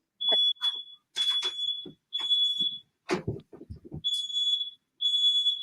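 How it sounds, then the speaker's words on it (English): A shrill, high-pitched smoke alarm beeps in long repeated bursts while people talk loudly over and between the tones. "Yeah, that's definitely a smoke alarm"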